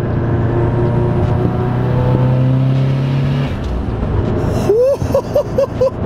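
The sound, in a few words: Subaru STI 500hp accelerating in 4th gear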